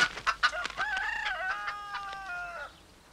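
Chickens cluck with short bursts near the start, then a rooster lets out a long, loud, close crowing call lasting about two seconds, trailing off at the end.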